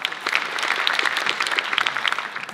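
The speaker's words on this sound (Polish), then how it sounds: "wielkie brawa dla Adamczyka" Audience applauding at a comedy roast, a steady dense patter of many hands clapping close up throughout, with no talking over it.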